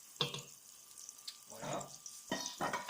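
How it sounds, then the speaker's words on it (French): Butter mixed with olive oil melts in a pan for a pork rouelle, giving a soft, quiet sizzle with a few brief clinks and stirring scrapes; no one speaks. "Sandra est en train de faire fondre le beurre mélangé à l'huile d'olive"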